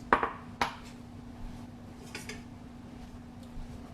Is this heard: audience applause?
no